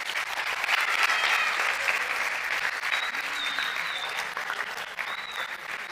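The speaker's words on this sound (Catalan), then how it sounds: "Moltes els hi podem donar un aplaudiment" Sustained, full audience applause at a school anniversary event for the Catalineta and Filetdor programme, steady and moderately loud with a few faint whistle-like tones drifting over it.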